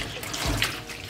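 Tap water runs steadily into a sink as beauty blender sponges are rinsed after washing with Dudu Osun soap, a close, continuous splashing with a brief louder swish midway.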